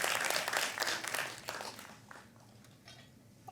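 Audience applause at a humorous Urdu poetry recital (mushaira) during the Jashn-e-Adab 2023 festival, a brisk crackle of many hands that is loudest at the start and thins out to scattered claps over a few seconds.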